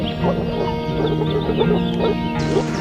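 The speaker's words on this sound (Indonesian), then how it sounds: "suara orkestra alami dari katak-katak yang tiba-tiba aktif nyanyi" Frogs croak in a lively chorus after rainfall, overlapping rhythmic calls and clucking notes repeating close by against a steady humming background drone.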